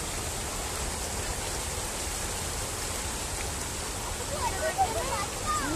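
Water rushes forcefully through the Adi Nimmayya Palle dam, a steady broad roar heard from some distance. Faint voices rise near the end.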